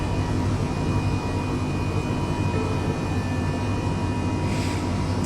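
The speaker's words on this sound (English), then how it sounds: "Start engine 2." Engine 2 of an Airbus H135 helicopter in MSFS 2020 spools up under the steady, loud turbine drone of the already idling first engine, a constant roar with faint whining tones throughout.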